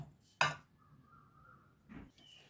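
A sharp metallic clank of a pot being set down on a gas stove, followed by a faint tone and a softer knock near the end.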